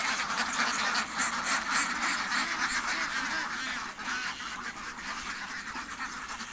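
A crowd of ducks, mostly drakes, on a duck farm in winter quack densely and continuously at feeding time, a loud overlapping chorus close by with no talk.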